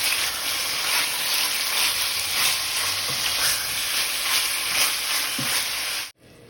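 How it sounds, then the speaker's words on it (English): Beef sizzles steadily in hot coconut oil for a Filipino caldereta, a close, even frying crackle with faint stirring, cutting off abruptly at the end. "I'm gonna fry the meat, the beef too."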